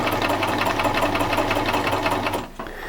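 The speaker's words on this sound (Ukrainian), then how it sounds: "в мене вже голка буде ходити зігзагом вліво, вправо" A Privileg Ideal 750 sewing machine stitches zigzag with a rapid, steady mechanical whirr and rhythmic needle clatter up close, slowing and stopping near the end.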